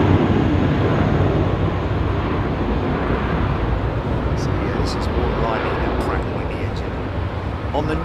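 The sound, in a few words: Lufthansa airliner departing Heathrow runway 27R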